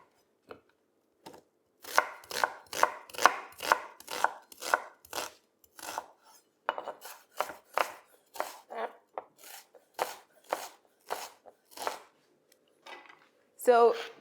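An onion being finely chopped with a knife on a board, a quick run of crisp, close, evenly paced chops with short pauses, quiet overall and without talking.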